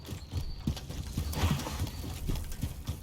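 Footsteps in a Korean shooter game: quick, irregular thuds and clacks at a steady walking pace, fairly quiet and close, with no talk.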